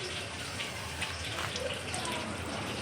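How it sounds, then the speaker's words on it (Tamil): Curry leaves are rinsed under a running kitchen tap, a soft steady trickle and splash of water heard faintly and close throughout. "அதுக்கப்புறம் கருவேப்பிலை கொஞ்சம் எடுத்து வாஷ் பண்ணி போட்டுக்கோங்க"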